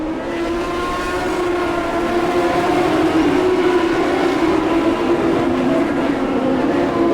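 Sprint cars of the California Lightning Sprints series race on the Bakersfield, California oval, a loud, steady engine roar with a strong droning pitch that holds throughout, with no pauses or breaks in it.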